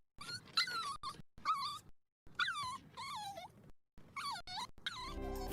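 Dogs whine and yelp in a run of high, wavering, pitched vocalizations, several short bursts with brief gaps between, close and fairly clear.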